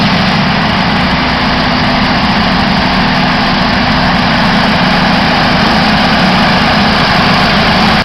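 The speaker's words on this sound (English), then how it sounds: "Listen to those engines roar," Heavy oversize transport trucks hauling big excavators and other heavy equipment produce a loud, steady engine drone. It holds at a constant, close level without letting up and with no voices over it.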